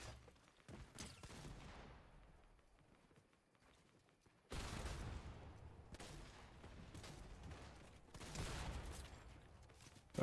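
Gunfire in the Fortnite video game, with bursts of shots in several loud clusters separated by quieter gaps.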